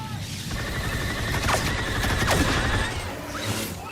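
Rapid blaster fire in Star Wars Battlefront II rattles in a dense, loud stream amid battlefield booms and whooshing effects, continuing for several seconds.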